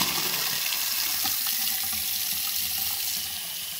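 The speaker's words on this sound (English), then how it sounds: "first let's turn on the hot faucet" Hot water runs from the faucet of a bathroom sink into the basin, a steady close rushing splash that holds level and then eases slightly near the end, with no voices.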